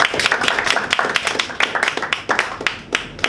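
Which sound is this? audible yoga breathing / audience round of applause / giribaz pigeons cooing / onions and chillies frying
audience round of applause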